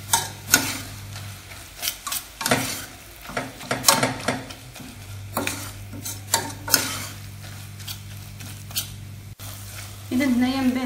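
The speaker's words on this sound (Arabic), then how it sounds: "وغادي نستمروا في التحريك تدخلنا العطريه مزيان في الكفته وفي الخضر ديالنا" Kofta and vegetables with salt and herbs are stirred in a pan, with a low sizzle of frying under repeated scraping and clinking strokes of a utensil, close and irregular, and brief soft speech.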